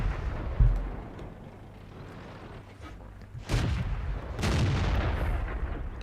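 Tank cannon fire in World of Tanks from an Excelsior tier 5 British heavy tank on the Sacred Valley map: a few heavy booms, one early and two more close together later, over a low rumbling game background.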